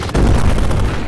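A placeholder big-explosion effect in the video game Dungeons & Blaster bursts as a loud, dense, rumbling blast that fills the short moment with no talking.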